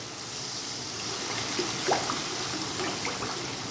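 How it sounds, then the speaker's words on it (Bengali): Water poured into frying spice mix for a rohu fish mustard curry, a steady trickling pour with a faint sizzle underneath, close and fairly quiet, no talking. "এবার আমি জল দিয়ে দেবো"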